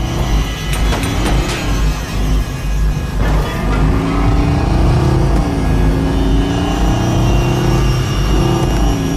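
A car pulls away in the video game Watch Dogs 2, its engine roaring loud and close in a steady, continuous drone for several seconds with no talking.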